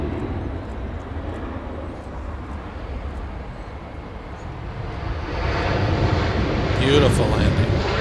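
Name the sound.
airplane landing at Los Angeles International Airport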